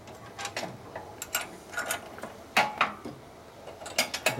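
On a 1941 74ci Knucklehead bobber, a wrench works the motorcycle chain adjuster lock nut, giving sharp, irregular metallic ratchet clicks that arrive in small clusters against a quiet background.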